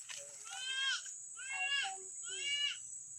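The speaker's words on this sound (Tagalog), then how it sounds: "Ayun, kambing oh." A goat on a farm bleats three times in a row, each call a wavering, nasal cry close by with short pauses between, against quiet background.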